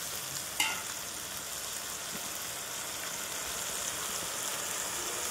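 Tomato and spice masala for a Bengali fish curry frying and being stirred in a pan, a steady close sizzle with a light clink of the spoon near the start and no talking.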